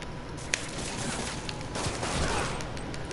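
Continuous bursts of gunfire from a Spider-Man video game, a dense rattling fusillade of shots that runs steadily through the whole stretch at moderate loudness, with a sharp louder crack standing out early on.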